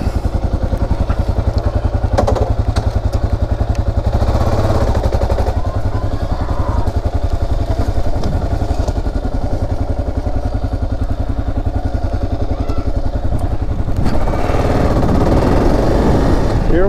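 A motorcycle on freshly fitted Shinko 705 tires rides along a road near Tombstone, Arizona, its engine droning steadily and loudly close by, with wind buffeting and a few clattering thumps, and no speech.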